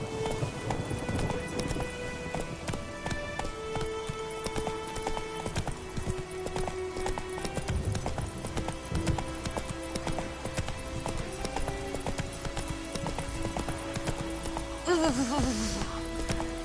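Horse hooves gallop in steady clip-clop rhythm while riding in The Witcher 3 video game, close and continuous over music and ambient sound, with a brief whinny near the end.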